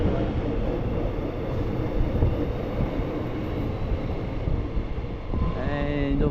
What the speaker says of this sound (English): the Flint Street train taking off